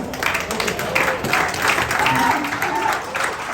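Applause for Red Bull Racing's run of 15 consecutive wins rises from an audience in the team's paddock in Singapore, moderate clapping heard under and between talk.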